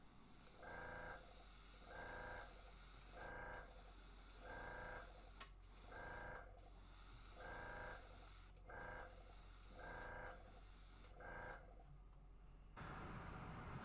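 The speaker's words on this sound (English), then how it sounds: "and then just spray across the body" An airbrush sprays paint onto a smallmouth bass fishing lure, hissing in repeated bursts of about a second each, steady and close, with short pauses between, ending in a broader rush of noise.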